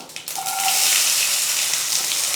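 Finely chopped onions hit hot oil with whole spices such as cinnamon and cloves for Chennai vada curry. A brief clatter sets off a bright, rising sizzle that fills the pan and stays strong and close, with no voices.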